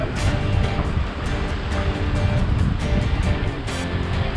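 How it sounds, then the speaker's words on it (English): Ocean waves rolling in along a Hawaiian shoreline make a continuous, loud wash of surf with wind buffeting the microphone. The roar stays steady throughout, with no voices heard. "waves are coming up"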